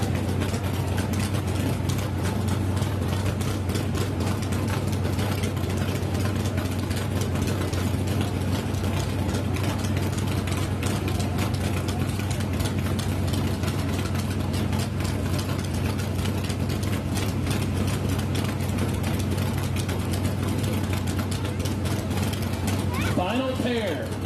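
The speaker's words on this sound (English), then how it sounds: "Zach Baum in the 3-valve 281 Ford Mustang versus Ford Mustang." Ford Mustang drag cars, among them a 3-valve 281 Mustang, idle at a drag strip, giving a steady, loud, low engine rumble with mechanical rattles throughout, with voices faintly beneath it.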